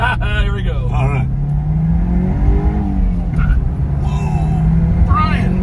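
A 1986 Porsche 944 Turbo (951) accelerates hard, its engine note rising in loud, sustained pitch sweeps close by, with people talking and exclaiming over it.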